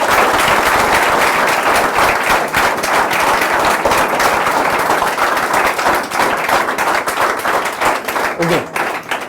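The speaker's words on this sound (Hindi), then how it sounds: "अपने ग्रेटिट्यूड में एक बार जोरदार तालियां एक बार बजा के" Loud, dense applause from an audience at a talk show, sustained and close for the whole span, with sharp individual claps crackling through the steady roar before it thins slightly at the end.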